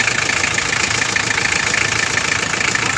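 A car engine runs just after a timing belt replacement, giving a steady, dense mechanical idle with a faint rapid knocking texture, close and continuous, no speech.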